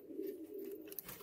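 Pigeons coo in the nest boxes of a loft where they are sitting on eggs: a soft, low, throaty coo rolling continuously for just over a second, close and quiet, with no talking.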